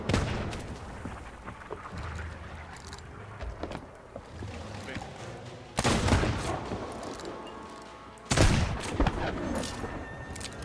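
Cannons fire in a Sea of Thieves pirate-ship battle, two loud booming blasts standing out over sloshing water and creaking ship noise, with quieter shots and impacts between them.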